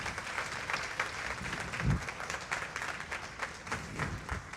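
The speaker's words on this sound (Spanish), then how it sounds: "Si lo va a aplaudir es para Dios." A church congregation applauds during a sermon, sustained clapping from many people heard at moderate level and slightly distant, continuing steadily through the whole stretch.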